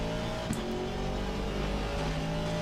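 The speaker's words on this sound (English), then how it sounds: "we've got to get used to the engine note of this car" A race car engine in the Assetto Corsa Competizione sim drones steadily and loudly throughout, holding a continuous, even note with only slight shifts in pitch.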